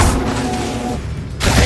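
Spell burst from Expelliarmus cast in Hogwarts Legacy, a loud dense blast of combat noise that rumbles through the clip, dips briefly, then flares again in a sharp broadband surge at the end.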